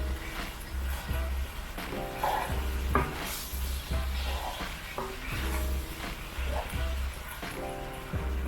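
Cooked meat being stirred into a sizzling mapo tofu sauce in a pan: a constant close sizzle with repeated scraping strokes of a utensil and occasional clinks, a voice talking faintly underneath.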